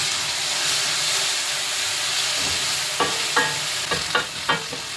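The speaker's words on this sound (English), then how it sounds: "Add the mashed tomatoes and mix well." Mashed tomatoes and onion sauté in a hot pan with a continuous sizzle and hiss, then a series of sharp scraping knocks near the end as the mixture is stirred. Close and fairly loud, with no talking.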